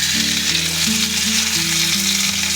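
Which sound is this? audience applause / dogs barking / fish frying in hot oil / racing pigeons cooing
fish frying in hot oil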